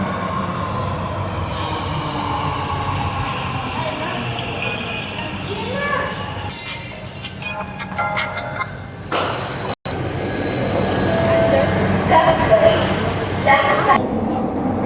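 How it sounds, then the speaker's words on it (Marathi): An underground metro train runs through tunnels with a dense, steady rumble and rattle, brief door and chime sounds partway through, and people talking nearby over the noise. "सगळे स्टेशन आणि सगळा जो वे आहे मेट्रोचा तो सगळा अंडरग्राऊंडच आहे."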